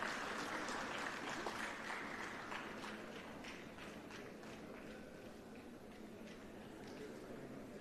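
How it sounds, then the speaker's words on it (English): Audience at a KUKA automation and robotics centre inauguration at PES University clapping steadily, a sustained round of applause that gradually softens. "A big round of applause for Mr."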